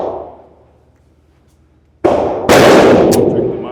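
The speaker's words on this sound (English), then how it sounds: "there is someone in here shooting a boomstick" Gunfire from another shooter at an indoor shooting range: after a fading echo and a quiet stretch, two loud, sharp reports crack out close together, each ringing off the hard walls.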